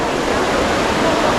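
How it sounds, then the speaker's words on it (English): Water gushes loudly and continuously from an underground spring beneath the Trevi Fountain in Rome: a dense, close, steady rushing roar with no pauses. "We want to see where the water originates from what aqueduct, and how this wonderful spring gushes."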